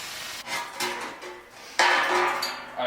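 Sheet material is cut out by hand for a homemade alternator splash guard on a 1999 Jeep Cherokee XJ, heard as a few close, irregular cutting and scraping bursts with the loudest stretch near the end.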